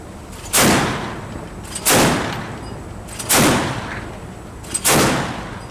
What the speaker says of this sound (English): A 25mm automatic cannon capable of turning any surface threat into smoking scrap in seconds.